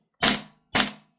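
Two sharp, loud shots from a KSC MP9 gas blowback airsoft submachine gun, each a crisp crack with a brief rattling decay, spaced about half a second apart, with nothing else audible.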